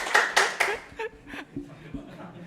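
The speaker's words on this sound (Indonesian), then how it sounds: "tepuk tangan untuk temannya." A few claps in a university lecture class, three sharp close hand claps followed by scattered quieter claps, light chuckles and murmured voices.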